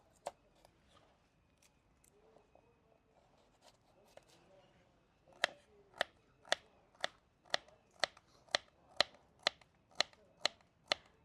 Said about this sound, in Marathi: भाज्यांमध्ये आपण सुरुवातीला गाजर कापून घेऊ गाजरचे मस्त छोटे छोटे पीस करून घेऊया